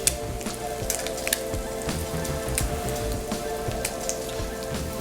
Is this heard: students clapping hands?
no